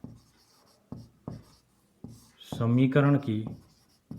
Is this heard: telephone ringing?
no